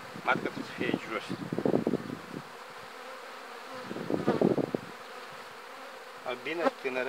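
Honeybees hum and buzz close by around a hive in a steady drone, swelling louder in bursts, while a person speaks intermittently nearby.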